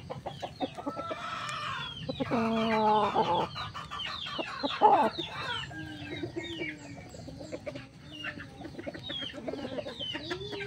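Gamecock roosters clucking at a cockfighting derby, with repeated close clucks and squawks from several birds over a steady murmuring outdoor background, plus a few brief calls and rustles throughout.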